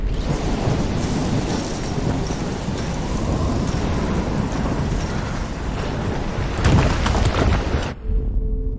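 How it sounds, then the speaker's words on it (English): A heavy thunderstorm with pouring rain in the video game Life is Strange, set in Oregon, rushes loudly and continuously, with a sharp thunder crack near the end before it cuts off abruptly. "I've never seen a storm like this in Oregon."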